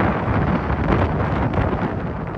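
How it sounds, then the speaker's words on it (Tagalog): Strong wind buffets the microphone in a loud, continuous roar, gusting without pause along the coast at Baclayon, Bohol, during stormy weather. "Dama naman ang malakas na hampas ng hangin sa Baclayon, Bohol"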